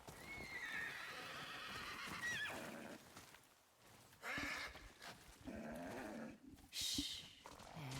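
In the video game Ghost of Yōtei, nervous horses on a snowy mountain ridge let out loud whinnies and snorts between clopping hooves, with spoken lines heard between the calls.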